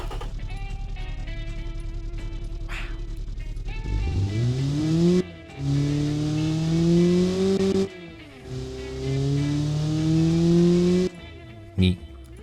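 An engine test in Automation revs up from idle in rising sweeps, drops off and climbs again, a loud, buzzy engine note standing alone with a couple of brief cuts between pulls.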